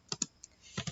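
Quick light keystrokes on a computer keyboard while entering data into an Excel spreadsheet: two taps, a single softer one, then two more in fast succession, close and quiet with no talking.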